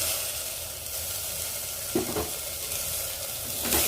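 Potatoes fry in a pan for an oats recipe, giving a steady sizzle throughout with a few brief stirring scrapes near the middle and end, and no talking.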